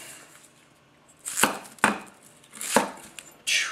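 A Tetsuhiro handhammered White #1 240 mm gyuto knife chopping an onion on a board, four distinct sharp cuts with swishing slices after a quiet start, close and loud with no talking.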